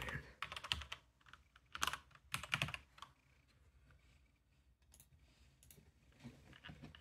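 Close clicking of a computer keyboard as a name is entered, quick irregular clusters of keystrokes with short pauses between bursts and a few isolated taps near the end.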